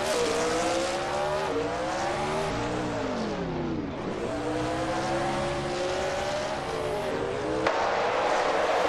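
Race cars in a drag race roar loudly and continuously, engines revving with rising and falling pitch sweeps as they run nose to tail, with a brief dip mid-way before surging again.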